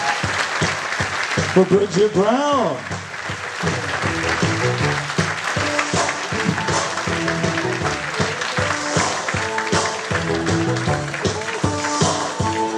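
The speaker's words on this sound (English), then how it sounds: "How about a nice round of applause" Wedding guests at a reception applaud in a loud, sustained round of clapping, while a DJ speaks over an amplified microphone near the start and a few whoops rise from the room.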